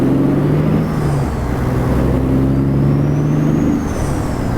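The engine of an International 9800i truck in American Truck Simulator hums in a loud, continuous drone with shifting pitch as it pulls away, close and unbroken.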